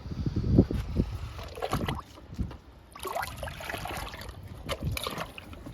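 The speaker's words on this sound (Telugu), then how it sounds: "ఇక స్టార్ట్ చేద్దామండి లిక్విడ్ ఇవ్వడం." Rice flour liquid is poured onto indoor plants in faint, irregular trickles and soft splashes, close by and quiet.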